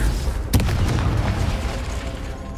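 An explosive spell is cast in Hogwarts Legacy with a sharp loud boom followed by a rumbling blast over steady background noise.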